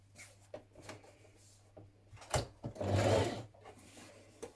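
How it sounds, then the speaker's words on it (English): A sewing machine understitches a skirt lining pocket in short quiet bursts, its faint hum and clicks broken by brief rustles of fabric handling. "And on the front skirt sections, I'm going to understitch."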